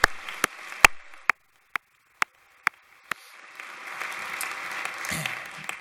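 A handful of slow, sharp single claps ring out at a library association luncheon, then give way to a softer, building wash of audience applause from the room.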